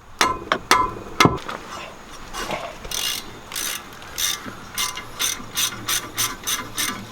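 Hammer taps at first, then a Harbor Freight ratchet clicks in repeated rapid bursts turning a bolt during a rear brake and rotor change on a 2016 Ford Transit van, close and fairly loud, with short pauses between strokes.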